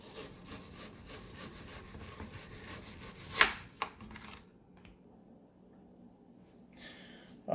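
A knife saws through a frozen deer roast being cut into lean jerky strips, giving close, steady rasping strokes with one sharper crunch partway through, then quieter scraping.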